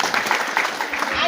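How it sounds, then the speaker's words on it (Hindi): Audience applause at a Ganesh festival gathering in Dhar, Rewalsar, Mandi, Himachal Pradesh, a dense steady patter of many hands clapping throughout, fairly loud and close, with faint voices mixed in. "जोरदार तालियां इनके लिए।"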